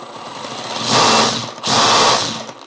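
Milwaukee M18 FUEL brushless one-inch SDS-plus rotary hammer drill running in two short bursts, each ramping up quickly to a loud high whine and stopping fast with a brief pause between.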